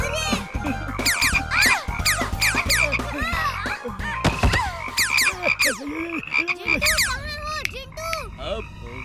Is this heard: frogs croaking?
yes